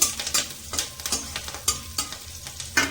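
Garlic and chillies fry in a pan, giving a soft, busy sizzle broken by repeated scraping stir strokes at a steady rhythm, fairly quiet and with no voices.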